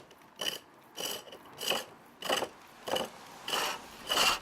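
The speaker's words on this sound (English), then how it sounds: "So we're going to use the spindle gouge now, which is the same as the roughing out gouge," A spindle gouge shaving a wooden spindle on a foot-powered pole lathe, heard as seven evenly spaced rasping cuts about every 0.6 seconds. Each cut follows a treadle stroke and sounds close and clear, with no talk.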